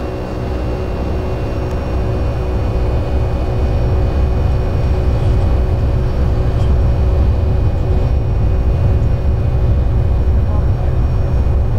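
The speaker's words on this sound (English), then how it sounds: "the engine sounds would change like that as you go further back in the airplane" Constant low jet engine roar heard from inside a Boeing 757 cabin in a flight simulator game, a steady droning rumble with a faint hum that never lets up.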